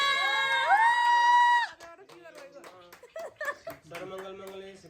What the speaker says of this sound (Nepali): ताली बजाऊ